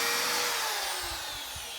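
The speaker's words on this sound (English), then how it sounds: "Got that leather drilled out." A power drill boring a hole through leather on a workbench, its motor whine sliding downward in pitch as it spins down, with a few low knocks near the end.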